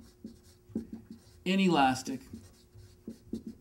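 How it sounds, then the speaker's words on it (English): Marker or chalk writing on a lecture board during an economics class on perfectly inelastic demand, heard as a loud scratchy squeaking stroke of about half a second between spoken phrases, with a lecturer talking before and after. "Let's write it down."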